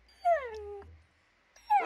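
A dog in Minecraft gives two short whining yips, the first a falling drawn-out whimper, then a pause before a second brief yelp, clear and close.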